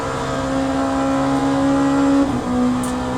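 Race cars in Le Mans Ultimate, LMP2 class at Monza, roar steadily with a sustained engine drone, the pitch holding then dipping briefly near the end before picking up again.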